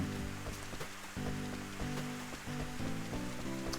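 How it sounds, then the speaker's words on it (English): Rain falls steadily in the video game Rune Factory 3, a soft, even patter spread under louder game music with repeating chords throughout. "Ooh, it's raining."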